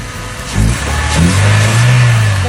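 A car engine that had trouble starting fires up and runs, its low hum swelling as it revs, loud and close with no talking.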